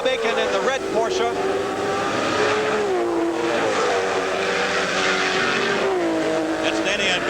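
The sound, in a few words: IMSA Camel GT race cars racing at Lime Rock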